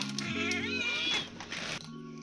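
A cat meows in the morning, a rising and falling tonal cry lasting about a second, close and fairly loud, with low background hum and voices nearby.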